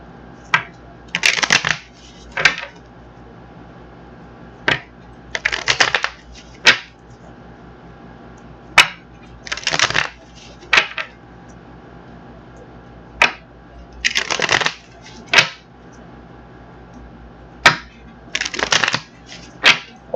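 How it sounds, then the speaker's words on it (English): Tarot cards riffled and bridged in repeated bursts, each a crisp fluttering rustle followed by sharp taps, recurring every few seconds with no talking. "we're going to get these cards shuffled up,"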